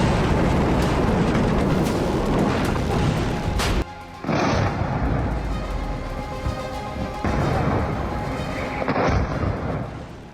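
Bunker buster bomb strikes on nuclear sites, heard as a continuous loud barrage of deep booming blasts and rumbling detonations, with a brief lull near the middle before the explosive roar resumes.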